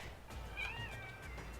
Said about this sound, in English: that's my cat Bean if you heard her